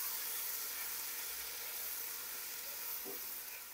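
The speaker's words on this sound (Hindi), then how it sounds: "अब लहसुन अदरक के पेस्ट को भी ब्राउन कर लेंगे।" Garlic ginger paste browns in a pan of dark-browned onions with a steady, soft sizzle and hiss that runs unbroken throughout, with no voices.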